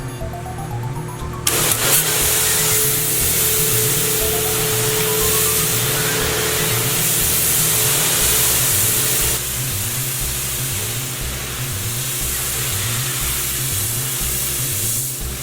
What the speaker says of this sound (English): it's time to pressure wash it off, and that includes the inside as well as underneath, and also the actual rotisserie itself